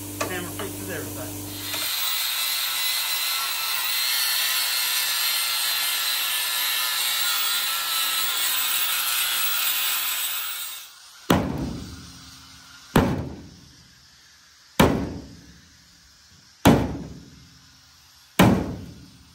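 Five loud metallic clangs of a hammer hitting a Chevrolet Silverado truck's metal strike at steady intervals near the end, each ringing out briefly, after a long stretch of steady grinding, scraping noise.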